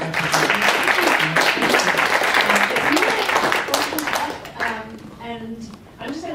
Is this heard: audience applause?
yes